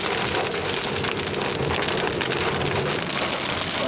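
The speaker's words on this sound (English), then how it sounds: "that was a fun little thunderstorm" Heavy thunderstorm rain pounds on a car, a loud, dense, continuous hiss of drops drumming the roof and windows with a rumbling low undertone, with no voices.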